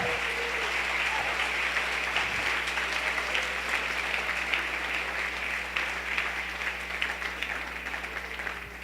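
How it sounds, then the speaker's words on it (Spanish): A church congregation applauds during a Sunday service, with dense, sustained clapping at moderate distance over a low steady hum, continuing evenly for several seconds. "Dele un aplauso al Señor, por favor."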